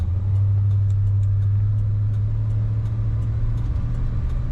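A 1978 Cadillac Eldorado's engine hums steadily with a deep, even low drone, loud and close, running continuously without pauses or voices.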